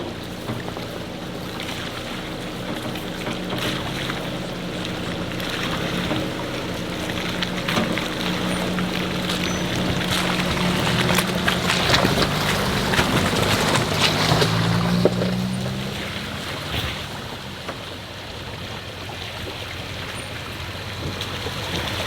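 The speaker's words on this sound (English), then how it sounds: "Another little creek crossing." A Toyota Tacoma crosses a small creek on Ozark trails, with continuous hissing water splash and wash over a low engine drone, building in the middle and easing off near the end, with no voices.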